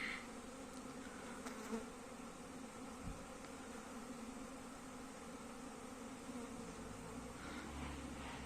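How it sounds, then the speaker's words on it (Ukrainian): Honey bees pour out of wooden hives on an early-season cleansing flight, making a continuous soft buzzing drone, faint and steady throughout, with a few louder passes near the end. "Оце вже можна сказати початок обльотів. Ось як літають."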